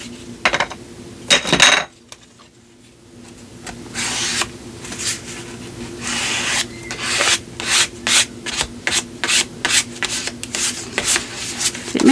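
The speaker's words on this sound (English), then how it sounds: "I'll just scrape some of that paint in here" Scraper dragged across painted book pages, producing repeated rough rubbing strokes in short bursts, fairly close and steady, with a brief quiet gap early on.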